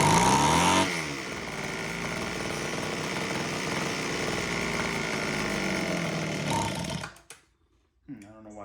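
A Homelite H 17 hedge trimmer's small two-stroke engine runs at a high, steady buzzing whine for several seconds, then sputters and cuts out as it fails to hold idle, followed by brief quiet and a faint restart sound.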